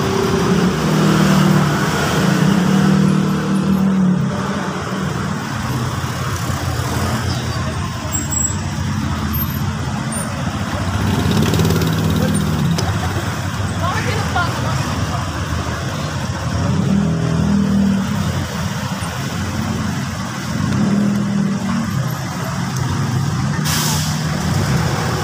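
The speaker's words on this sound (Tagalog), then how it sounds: "ayan na nga po at umandar na po ang truck" A garbage truck idles and revs with a low, heavy diesel rumble during a street procession for a town fiesta, with air brake hisses and passing traffic around it. A few voices are faintly heard under the engine noise.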